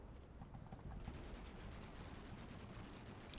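Rapid gunfire crackles in the Combat Mission: Black Sea video game, a quiet, distant, continuous stream of shots that thickens after the first second and keeps going steadily.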